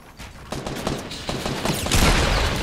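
Gunfire in the video game Fortnite, a rapid fusillade of sharp shots building in density and loudness, closing in a heavy burst of fire.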